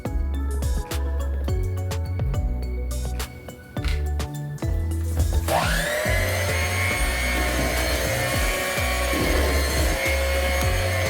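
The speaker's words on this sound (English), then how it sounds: "even though we're using a hand mixer today" An electric hand mixer beats mango cake batter in a bowl, first clinking and scraping in short strokes, then settling into a steady, loud whirring drone that runs to the end.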